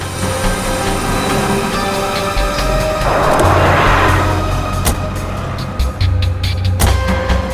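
A car driving along, low engine rumble and road noise, with a burst of broad hiss like passing wind or tyres mid-way and a few clunks, steady and close, no voices.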